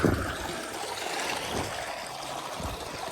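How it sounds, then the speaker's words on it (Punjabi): Water gushes steadily from the outlet of a farm tubewell motor pump in a field, a continuous broadband rushing splash close by with no speech. "ਇਹ ਲਓ ਪਾਣੀ ਆਪਣਾ ਹੁਣ ਪਾਣੀ ਥੋੜਾ ਵੱਧ ਗਿਆ"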